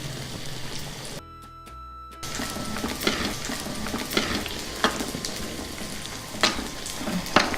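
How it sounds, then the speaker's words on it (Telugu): Dried red chillies sizzle loudly in hot oil as a tempering for Andhra gongura mango dal, a dense crackling fry with stirring. It drops out briefly for a moment of near silence, then returns just as strong. "ఇందులోనే ఎండుమిర్చి వేసుకుందాం. వీటిని బాగా వేగనిద్దాం."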